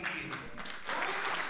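A brief burst of soft, distant audience applause in a hall, with a faint murmur of voices underneath.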